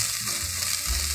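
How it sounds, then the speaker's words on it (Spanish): Seasoned ingredients sizzle and scrape as they are stirred in a frying pan, a loud, close, steady hiss of frying under the stirring, with no voices. "vamos a revolver para pues claramente integrar todo"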